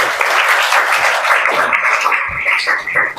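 A student audience claps loudly and steadily for a few seconds at an event with successful IIT students, a dense, close wash of many hands with slight unevenness toward the end.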